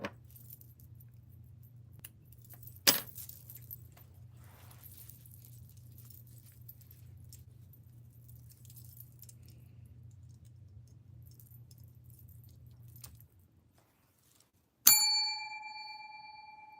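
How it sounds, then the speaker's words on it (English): A single bright bell ding rings out in a quiet yarn craft room and fades with a ringing decay, following a long stretch of low hum and a few faint clicks. "it's gonna be time to ring that bell"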